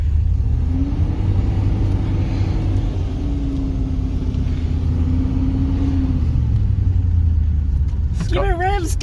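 A Rover SD1 engine drones at a low, steady pitch on a test drive and never climbs, a loud rumble with talk over it near the end.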